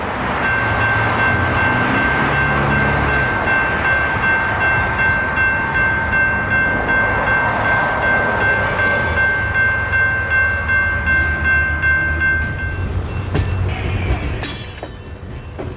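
A train nears a railroad crossing with a loud, sustained horn blast held over a heavy rolling rumble, staying close and strong before the horn cuts off and the rumble thins at the end.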